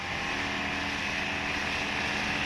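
A Harley-Davidson Iron 883 motorcycle engine running hard on the freeway: a steady, loud, roaring drone with wind rush, held close and continuous without pause.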